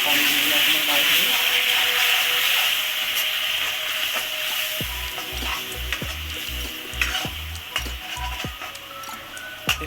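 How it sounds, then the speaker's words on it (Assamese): Catfish curry sizzling as it fries in a pan, with steady hiss and occasional stirring scrapes; low rhythmic thumps join partway through. "অকণমান এনেকৈ ফ্ৰাই কৰিব লাগিব।"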